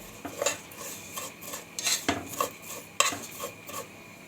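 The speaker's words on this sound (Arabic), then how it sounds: "ننزل على طول بالعدس، نقلب فيها كده شويه" Lentils and vermicelli in ghee are stirred in a cooking pot, a metal spoon clinking and scraping against the sides in irregular strokes over a faint sizzle, near and fairly loud, no one speaking.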